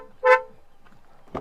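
A single short horn toot from a 2024 Kia Seltos diesel rings out, followed by quiet and the start of a second honk at the very end.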